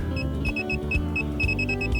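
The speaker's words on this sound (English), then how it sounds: "You'll hear a lot of beeping and different noises." Circuit breaker finder receiver emitting a run of short, repeated electronic beeps in uneven bursts during a training pass, heard over a steady low rumble of background noise.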